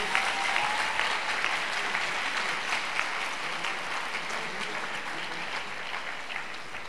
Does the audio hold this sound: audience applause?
yes